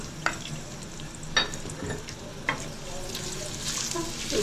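Onions frying in oil in a home kitchen, a low steady sizzle with a few scraping stirs, close and moderately quiet.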